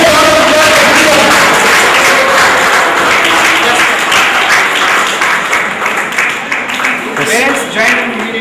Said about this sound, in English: Well, a big round of applause for Preetham.